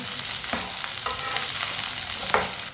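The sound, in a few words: okra roasting in a pan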